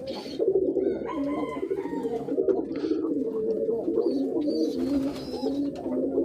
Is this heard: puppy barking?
no